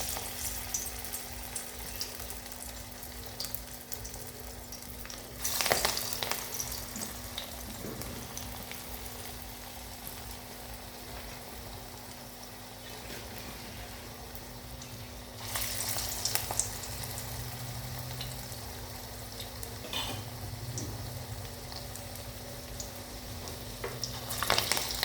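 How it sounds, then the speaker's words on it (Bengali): Sojne flower fritters fry in hot oil in a kadai, a soft, steady sizzle with two louder bursts of crackling as more batter goes in, no talking. "দেখো, ফ্রাই হচ্ছে।"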